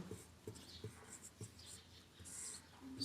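Writing on a board in a maths lesson produces a faint series of short scratchy strokes, coming at a loose rhythm with brief pauses between them and no talking over them.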